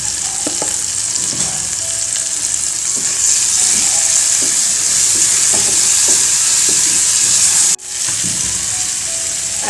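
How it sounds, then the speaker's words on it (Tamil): Onions and tomatoes sautéing in a pan for a cold and sore-throat soup: a loud, constant frying hiss with faint stirring scrapes underneath, close by, cut off abruptly near the end before resuming. "வெங்காயம் வதங்கினதுமே தக்காளி போட்டுடலாம். அது வதங்கட்டும்."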